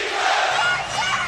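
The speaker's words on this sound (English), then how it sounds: "Here's Brunson, the crowd back in it." A loud, dense roar from the crowd at Madison Square Garden rises during a Knicks versus Pistons NBA playoff game, a sustained cheer filling the arena with no clear break.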